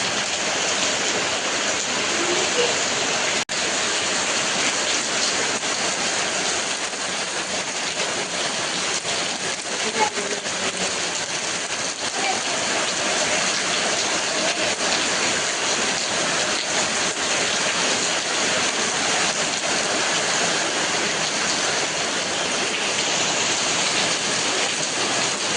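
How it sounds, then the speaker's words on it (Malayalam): Heavy rain pours steadily outside, a dense, even hiss of drops on surfaces that holds for the whole stretch, with a faint occasional knock and no talking. "നല്ല മഴയാണ് പുറത്ത്"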